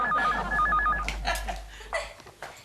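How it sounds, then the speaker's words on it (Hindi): A telephone rings in a home sitcom scene, a loud repeating electronic trill in quick bursts for about a second, followed by clatter and movement sounds. "कब से फोन बज रहा है, कोई उठाता क्यों नहीं?"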